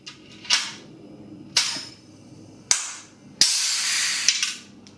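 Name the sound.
pneumatic rivet gun setting a rivet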